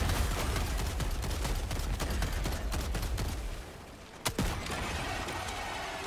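Gunfire from a weapon in Helldivers 2 while fighting bugs: rapid, dense bursts of shots form a steady rattling stream. They stop, a single sharp crack follows, and softer mechanical noise trails off.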